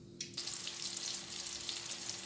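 Half-cooked chicken pieces for ayam geprek are stir-fried in a hot oily pan, giving a continuous close, bright sizzle with no talking.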